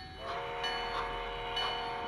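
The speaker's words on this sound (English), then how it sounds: "A freight train is leaving the schooner pier after an ocean-going ship has unloaded its cargo." A freight train leaves a schooner pier on the Tiburon waterfront, its horn sounding as a sustained tonal blast over a soft, distant rolling rumble, fairly faint and without any voices.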